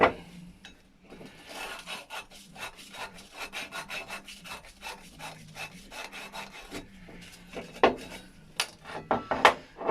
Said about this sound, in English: wire brushing the side. Get the surface rushed out.